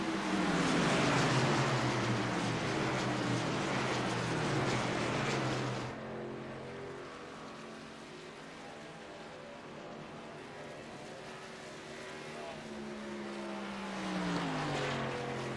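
Racing trucks droning around Pocono during a truck series race, a steady engine hum with pitch sweeping as the pack passes, loud at first then easing to a quieter distant drone before rising again.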